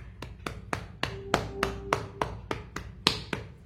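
Light hand taps on folded fabric to transfer an aari work blouse marking: about a dozen crisp, evenly spaced knocks, close and moderately loud, with no talking.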